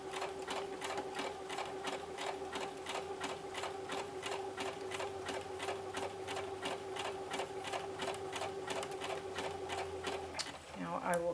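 A sewing machine with a Pearls & Sequins foot stitches down a string of sequins in a steady, rapid, even rhythm that runs close and continuous, then stops at the end with a brief clatter.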